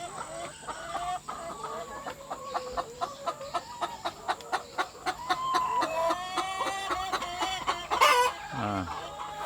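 Laying hens in a poultry farm shed cluck steadily and close by, with a rhythmic run of repeated clucks, overlapping calls from the flock and a short crow-like squawk near the end.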